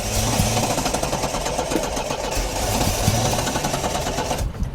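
A Triumph TR7 engine cranks over on the starter without catching while the accelerator is worked. The churning is rapid, rhythmic and close, with no words over it. It runs on steadily and then cuts off abruptly at the end.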